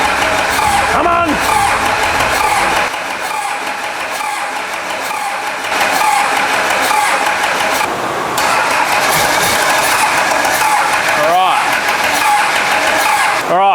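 A 6BT Cummins diesel engine cranks on a cold first start, churning loudly and unevenly with bursts that catch and fade, while voices talk over it.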